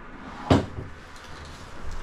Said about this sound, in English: You got a couple drawers here.